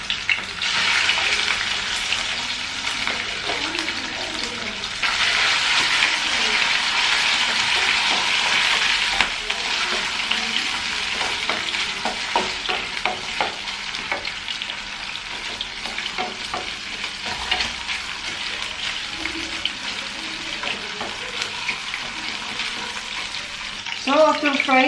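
Chicken gizzard fat frying in a pan, a steady close sizzle with bursts of stirring and clinking utensils running throughout.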